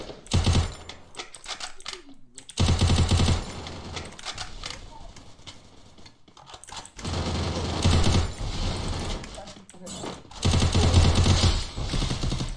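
Gunfire in a mobile shooting battle-royale game comes in several loud rapid bursts separated by quieter gaps with mechanical clicking, heard close.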